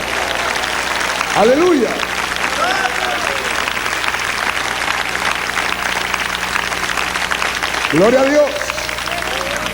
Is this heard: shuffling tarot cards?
no